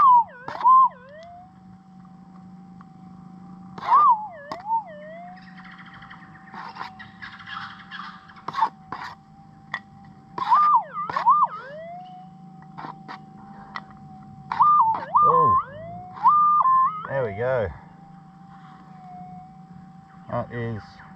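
Metal detector on noisy gold-prospecting ground, a steady whining tone with repeated warbling rises and dips as the coil sweeps, with a louder burst of signal near the end, under intermittent background sounds.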